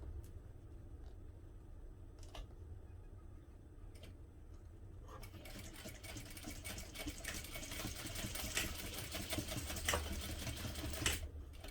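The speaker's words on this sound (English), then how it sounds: "we're going to sew again one more time closer to the edge of the strap" Close machine stitching along the edge of a vinyl tote strap, a faint low hum with a few light clicks that builds into a denser, louder, steady needle rattle partway through.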